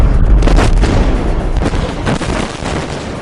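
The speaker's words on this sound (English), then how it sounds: "seeing the explosives actually detonate. That ground vibration, that explosion" Explosives detonating during drill and blast mining, a loud continuous rumbling roar with deep booming energy sustained for several seconds, close and heavy.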